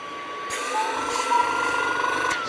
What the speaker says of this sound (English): here's the suction of the machine